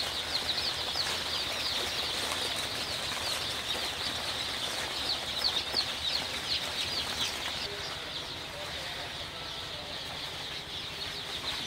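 Sonali super hybrid chicks in a brooder give a dense, continuous chorus of high chirps and peeps, fairly quiet and steady throughout, with occasional faint rustling and no talking.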